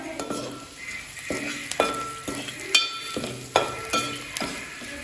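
A spoon stirs egg curry (pulusu) in a pot, with soft scraping strokes and a few metallic clinks over a low sizzle, close and without talk.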